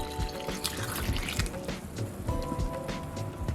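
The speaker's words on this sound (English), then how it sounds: "I'm gonna pour this back into our pot." Boiled sorrel and pineapple-skin drink poured from a container back into a cooking pot on a stove, a steady splashing liquid pour with dripping, fairly close and continuous throughout.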